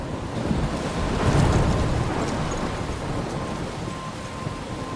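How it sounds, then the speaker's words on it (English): A storm in the video game Life is Strange: a steady, loud roar of heavy rain and wind with a low rumble of thunder swelling midway, continuous and with no speech. "I'm trapped in a storm?"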